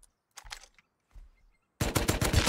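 Automatic gunfire from a Tommy gun in the Rust video game, a dense rapid burst arriving loud and close near the end after a few quieter scattered sounds.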